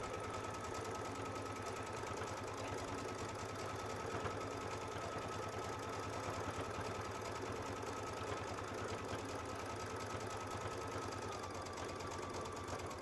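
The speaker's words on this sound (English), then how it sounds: "check out those circles I just quilted" A Baby Lock sewing machine quilting circles with a leather roller foot, running as a fast, even, continuous mechanical whir with a steady hum, fairly quiet and close.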